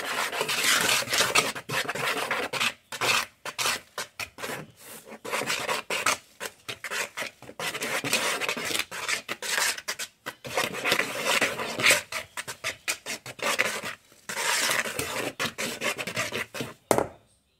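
Sifted dry ingredients for milk bread are stirred and scraped in a bowl, producing a close, continuous gritty rubbing broken by brief pauses, with no voices.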